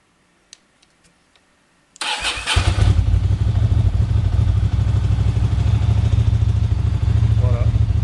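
A Ducati 750 SS motorcycle engine cranks and fires up after a couple of faint clicks, then settles into a loud, steady, rumbling idle close by.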